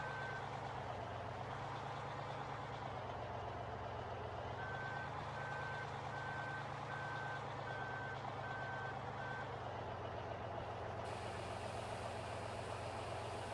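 In Farming Simulator 15, a truck backs up a long trailer with wheels at the rear, its steady reversing beeps repeating at an even pace over a low, constant engine drone, clear and close with no talking.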